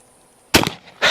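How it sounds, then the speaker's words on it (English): A Lightning baby carbine fires one sharp rifle shot at a jug on an outdoor range, a loud close crack with a short ringing tail, followed by a second burst of noise. "Let's shoot that"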